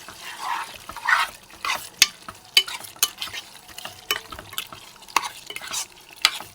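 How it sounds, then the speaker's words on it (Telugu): A spoon stirs mutton curry with cucumber in a pan, scraping and clinking in uneven strokes over a soft sizzle, close by with no talking. "ఒకసారి కలుపుకుందాం."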